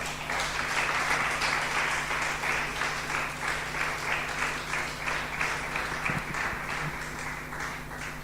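A church congregation applauds steadily throughout, a dense, even wash of many hands clapping that holds at one level from start to finish, with a faint low hum and a brief sound near the end.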